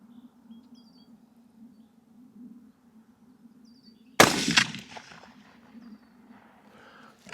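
A single sharp, loud rifle shot while a scope is zeroed at 100 yards outdoors, cracking suddenly after quiet with faint birds chirping, then a short rolling decay and a clank at the end, with no talk.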